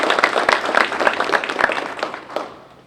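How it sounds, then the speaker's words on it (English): An audience at a university Veterans Day celebration gives a round of applause, a dense spread of claps with a few sharper nearby hands, holding steady and then tapering off near the end. "give them a round of applause"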